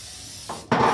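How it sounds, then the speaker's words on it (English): Cooking spray hisses into a baking pan in two short bursts, a brief lighter puff followed by a louder, longer spray, close and alone. "I do like to spray a little bit."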